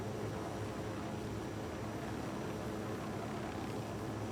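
Steady broadband rumble of a helicopter in flight in Ghost Recon Wildlands, a constant droning whoosh with no clear rotor beat, moderately quiet and unbroken throughout.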